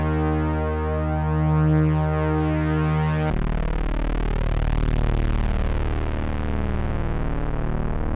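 Steady Eurorack modular synthesizer tones, bright and buzzy, holding one droning chord before abruptly switching to a denser, rougher tone that continues to the end.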